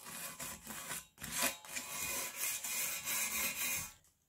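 Metal being hand-sanded and scratched to roughen it before an anti-rust coat for a faux rust finish. Quiet, repeated rasping strokes run back and forth in a steady rhythm, with brief pauses between them.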